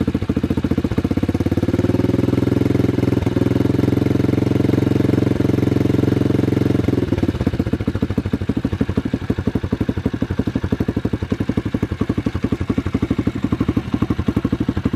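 A Loncin 110/125 pit bike engine runs close by, a loud, rough, rapid thumping that rises as more throttle is applied and then settles into a steady, faster clattering rhythm.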